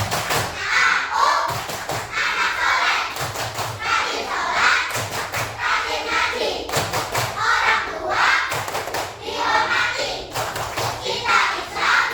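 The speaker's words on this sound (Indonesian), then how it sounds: "mari kita tepuk anak soleh" Children perform the 'tepuk anak soleh' clapping chant in a classroom, with rhythmic bursts of group clapping alternating with voices chanting together throughout, loud and close.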